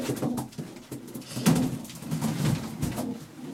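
Inbred racing pigeons cooing softly in a loft, low throaty calls repeating over a faint background of shuffling and rustling.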